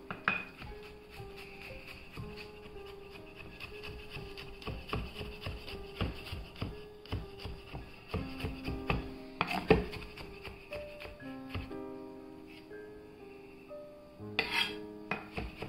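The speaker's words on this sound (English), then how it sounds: "I'll start chopping my garlic and my onion" Garlic and onion being chopped for bora with salt fish, a steady run of close knife strikes on a cutting board mixed with scraping and the clatter of kitchen utensils.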